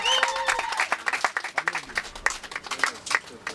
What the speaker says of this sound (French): Est-ce que nous pouvons acclamer encore une fois pour eux?